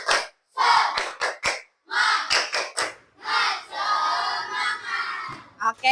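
A group of children in an Indonesian classroom chants and shouts in rhythm, punctuated by sharp claps in a patterned sequence, loud and close.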